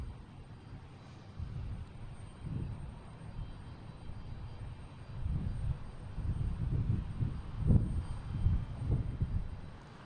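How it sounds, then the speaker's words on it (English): A JetBlue jet airliner lands at Boston Logan, arriving from Fort Myers: a distant low engine rumble that grows louder and more turbulent over ten seconds, with gusty surges near the end and no talking. "I just had JetBlue land"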